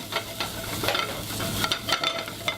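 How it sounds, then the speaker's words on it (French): Langoustines seasoned with salt and pepper hit very hot oil in a pan, giving a continuous close sizzle broken by bursts of crackling spatter. "l'huile très chaude et je mets les langoustines à l'intérieur"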